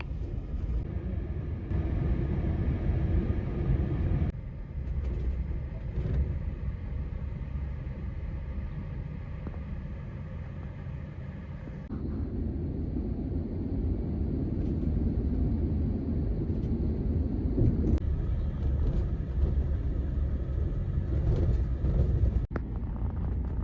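Overnight Megabus coach driving on the road, a steady low rumble of engine and road noise lasting throughout, with a slight shift in tone partway as the ride continues.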